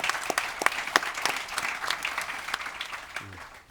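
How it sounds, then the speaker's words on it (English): Audience at a coffee industry panel on coffee cultivation and climate change applauds: a steady, moderately dense round of clapping that tapers off near the end, with a brief voice at the close. "So, big applause for Tim"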